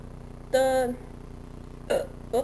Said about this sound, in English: Burp there, I apologize deeply.